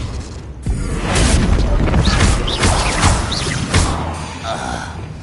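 Confringo blasting spell explosions in Hogwarts Legacy: loud booming impacts and crashing debris in quick succession over several seconds, mixed with whooshing magic effects and game sound under dense combat noise.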